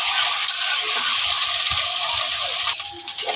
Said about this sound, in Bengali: তারপর এর মধ্যে দিয়ে দেবো পরিমাণ মতো পানি